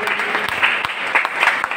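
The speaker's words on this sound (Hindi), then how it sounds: "तालियों में कमी ना होने पाए।" Audience applause at an award ceremony honouring a doctor with a citation and shawl: a steady, dense wash of many hands clapping together, continuous and fairly loud throughout.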